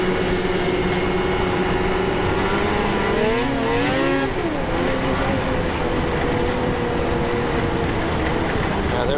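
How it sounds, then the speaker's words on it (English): A 2025 Arctic Cat ZR 858 Catalyst snowmobile engine drones steadily and loudly up close while riding, its pitch rising and falling mid-run as the throttle changes, continuous throughout with no talk. "Engine sounds good, though, I have to say."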